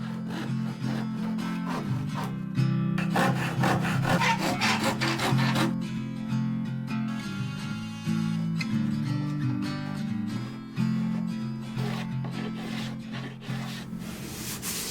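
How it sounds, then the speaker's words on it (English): Steady, continuous rasping and sawing as excess wooden deck skin is trimmed off a hollow wooden surfboard, close and loud throughout with uneven strokes and brief changes in pressure. "Then it was time for me to remove the excess deck skin and really make it look like a surfboard."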